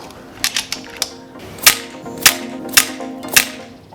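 High-power .177 air rifle shots at a paper target: several sharp cracks, with smaller snaps early on, then four loud, evenly spaced reports about half a second apart, close by with no talk.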